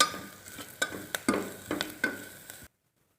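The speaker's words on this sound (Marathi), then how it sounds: "आता हे आपले मसाले छान परतलेत।" Spices sizzle and fry in hot oil with turmeric, asafoetida and coriander as they are stirred in a pan for Maharashtrian masala bhat, with several sharp scraping stirs over a steady sizzle before it cuts off.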